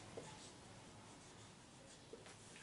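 Writing on a board during a maths lesson, soft continuous scratchy strokes with a couple of small taps, quiet and close with no talking.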